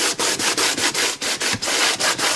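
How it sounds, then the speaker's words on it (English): 100 grit sandpaper is rubbed back and forth over a cured resin surface on a honeybee hive top feeder, making close, loud, rhythmic scratchy strokes about every third of a second with brief gaps between them and no talking. "Guys, I've got 100 grit sandpaper here,"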